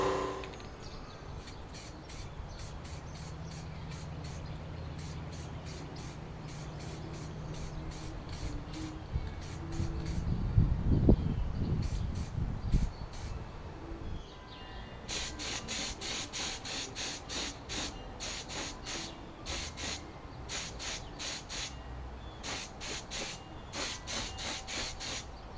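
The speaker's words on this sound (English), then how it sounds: "I'm going to prime them up with this, and then I'm going to paint them gloss black" Primer sprayed from an aerosol can onto bead-blasted handlebar brackets from a 1956 Cooper Cyclo-Mo-18 lawn mower, heard as many short hissing bursts in rapid succession, close and fairly loud, with a low rumble partway through and no talking.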